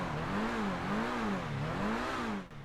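Annis RE-7B race car engine revving in GTA 5 Online, a loud continuous drone that rises and falls in repeated even swells before cutting off.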